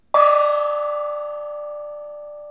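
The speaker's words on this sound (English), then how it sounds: "I think it's time for a gong hit" A gong hit sound effect gives one sharp metallic strike followed by a long, ringing, slowly fading tone, loud and alone.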